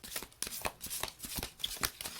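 Mists of Avalon oracle cards being shuffled close by, a quick series of riffling, slapping card flicks in irregular bursts.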